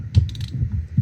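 A hand ratchet working loose 10mm bolts on a Honda Civic Type R FL5 during a turbo inlet tube install, rapid close mechanical clicking with a couple of heavier knocks, no voices.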